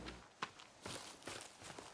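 Footsteps in the survival game The Forest, a few soft, uneven steps on the ground at a moderate distance, quiet and unaccompanied by speech.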